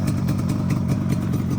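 A Yamaha RD two-stroke motorcycle engine runs close by with a steady, pulsing idle.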